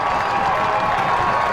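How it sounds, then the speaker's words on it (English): High school football crowd at Warrior Stadium roaring steadily after a touchdown, a dense continuous wash of cheering and applause from the stands. "Crowd starting to amp up here at Warrior Stadium"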